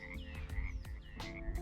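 Dense chorus of frogs croaking at Laguna Hanso, an island-like lagoon surrounded by water, with overlapping calls and sharp repeated croaks close by over a steady background of many more frogs.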